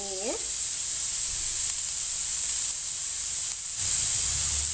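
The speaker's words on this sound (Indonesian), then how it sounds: "Kita gorengkan sehingga sedikit layu dan wangi ya." Garlic, onion and green chili fry in hot oil with a loud, continuous bright sizzle, steady throughout with slight swells, and no voices over it.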